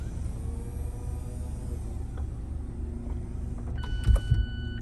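A 2022 Mazda MX-5 Miata RF's retractable roof lowers with a low, steady electric motor hum, ending in a few soft mechanical clunks and a brief chime as it finishes.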